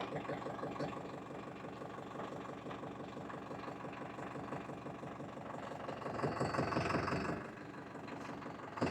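A Farmtrac 6055 Worldmaxx 4WD tractor with a 55 HP non-turbo engine idles with a steady, close, throbbing chug, swelling briefly louder for a second before settling back to its even beat.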